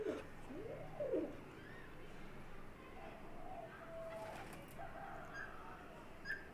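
Pigeons coo softly in a low rounded call near the start, with faint bird chirps and background voices continuing through the rest.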